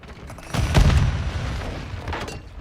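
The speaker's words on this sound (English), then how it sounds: "Hostile mortar strike in the area." Mortar strike explosions in a Call of Duty Modern Warfare II multiplayer match: a heavy boom lands near the start, and a low rumbling roar of impacts and debris continues through the rest.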